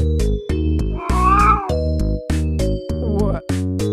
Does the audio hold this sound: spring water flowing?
no